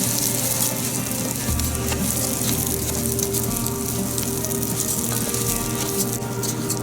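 Short grain rice frying in a pot for goat meat basanti pulao, giving a steady, close sizzle with a low cooking hum underneath, continuous and even throughout.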